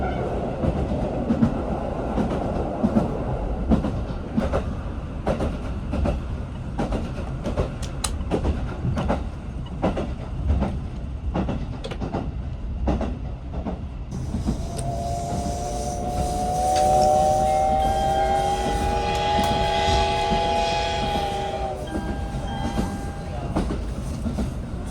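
SL Yamaguchi steam train running into Tsuwano after a long tunnel, heard from aboard as a steady rumble and rhythmic wheel clatter, then a long, loud whistle blast over the rolling noise.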